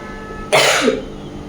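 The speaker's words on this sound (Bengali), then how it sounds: "সবাই সর্দি কাশি" A single loud, harsh cough from a person with a cold bursts out close by after a quiet moment, then trails off into faint room noise.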